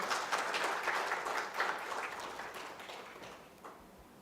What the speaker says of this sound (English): We will clap for both of them.